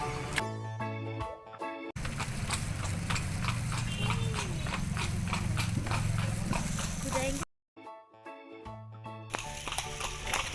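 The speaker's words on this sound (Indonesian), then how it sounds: "akhirnya Aisyah dan Lala juga menuju lokasi berikutnya untuk naik kuda." Horse hooves clip-clopping steadily during a ride, with background music and sound effects layered over the steps, which stop briefly near the end.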